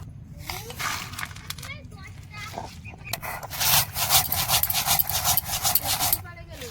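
Ingredients for laddu crushed by hand in a village kitchen, giving a repeated rough scraping and grinding that grows louder and more continuous toward the end, with children's voices in the background.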